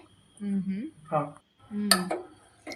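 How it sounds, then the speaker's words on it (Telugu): A lid clinks down onto a pot of boiling gongura leaves, one brief metallic knock between stretches of talking voices. "దాని మీద మూత పెట్టుకోవాలి"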